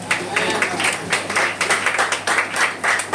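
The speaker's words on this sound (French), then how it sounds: "On acclame la parole de Dieu." Church congregation breaking into applause, dense clapping in repeated bursts with some voices mixed in, fairly loud and close throughout, a steady low hum underneath.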